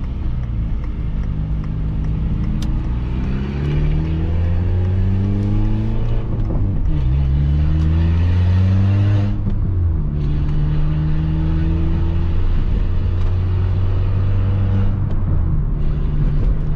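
A Peugeot 206 engine revs hard and accelerates through several gears in a park, each rising pull dropping at the shift, loud and close for the whole stretch with no talk.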